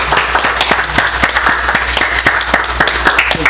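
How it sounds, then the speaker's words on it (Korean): Loud, continuous applause fills a political party event as a ceremonial party jacket is put on a newly recruited former police superintendent. Dense crowd clapping holds steady throughout. "입혀 주실 때 큰 박수 부탁드리겠습니다."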